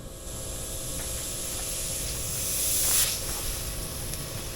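Garden sprinklers spray water over a newly built herb garden during a one-minute test run, a continuous loud hiss that builds slightly midway and then holds steady, with no one speaking.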